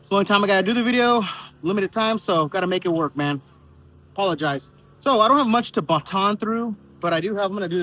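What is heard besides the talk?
No everyday noises stand out.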